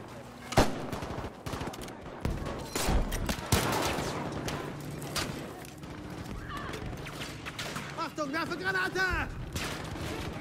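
Gunfire in the video game Battlefield V, with several loud shots and bursts in the first few seconds, then quieter scattered shooting and game effects under a busy mix, with a voice briefly audible.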